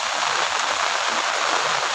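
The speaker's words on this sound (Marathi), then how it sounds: "आमच्या गावाला किती पाऊस लागतो आहे" Heavy rain pours down on a village in Kelus, making a dense, continuous hiss close by with no voices.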